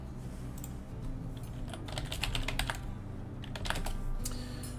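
Quick bursts of computer keyboard typing, with clusters of crisp key clicks in an irregular rhythm, fairly close but quiet, over a low steady background hum.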